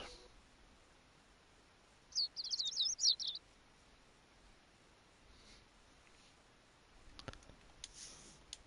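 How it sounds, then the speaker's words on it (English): A short burst of small bird chirps and tweets, fairly faint against a quiet outdoor background, followed later by a few soft clicks. "The sound of birds chirping slowly raises me from my dream into consciousness."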